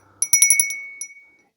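A small 1980s Japanese-made bell with a clapper is shaken, giving a quick flurry of bright, close metallic rings, then one last strike that fades out.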